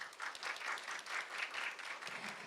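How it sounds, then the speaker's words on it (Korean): Steady applause fills the hall at the 2022 National Institute of Korean Language AI language ability awards ceremony, with even clapping from the audience sustained throughout. "오늘 수상한 모든 분들께 다시 한번 축하의 박수 부탁드리겠습니다"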